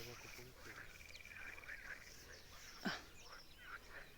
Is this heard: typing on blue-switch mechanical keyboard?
no